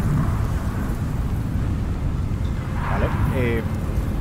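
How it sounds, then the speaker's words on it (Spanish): Thunderstorm in the video game Dishonored 2, a continuous low rumble of thunder and rain that stays steady throughout, with a brief higher chirping sound near the end. "se nos va la tormenta"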